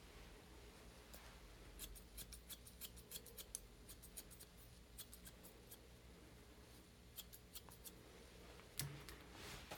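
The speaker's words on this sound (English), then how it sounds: "let's go in behind with our scissors" Scissors snip in quick, irregular bursts close by, trimming a poodle's hair, crisp clicking cuts repeating over a low, quiet room background.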